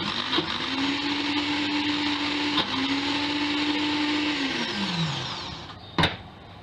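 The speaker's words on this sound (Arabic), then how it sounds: "غادي نطحنو حتى يبانو ليا الفقاعات بدا يتدارو في السطح" A blender runs continuously, close and loud, mixing whole wheat baghrir batter, its motor pitch steady, dipping briefly once, then winding down before a sharp knock near the end.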